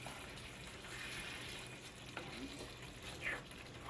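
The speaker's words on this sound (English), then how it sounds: "And then we're going to stir this." Skillet ravioli lasagna being stirred in a skillet, a steady low sizzle with faint scraping strokes, one sharper clink near the end, no voices.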